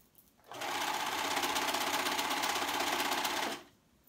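A serger stitching the seam of a flounce tee runs in one steady, fast-chattering burst of about three seconds, starting and stopping abruptly against a quiet room.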